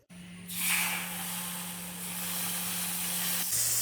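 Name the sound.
milk poured into hot ghee and roasted flour, hissing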